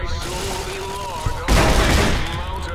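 A riot shotgun fires in the Fallout New Vegas game, a sudden loud blast and rushing burst mid-clip over a steady hum of game sound and music.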